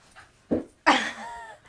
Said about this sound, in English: we've just had a bounding dog come in